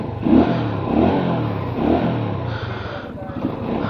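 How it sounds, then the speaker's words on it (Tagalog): Engine of a Euromotor Marvel 125 motorcycle idling and revving at close range, a steady mid-pitched drone with slight surges, running continuously beneath someone talking. "so yan ang sound ng engine nya."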